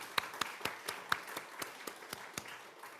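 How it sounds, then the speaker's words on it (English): A small audience at a book discussion claps politely: faint, sparse, evenly spaced claps tapping out a slow steady rhythm in a quiet room. "Yes, please let's give her a round of applause."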